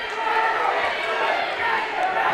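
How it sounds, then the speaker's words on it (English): Crowd noise swells at a high school wrestling match, a loud, continuous wash of cheering and shouting voices that fills the whole stretch without a break. "Crowd getting into it again."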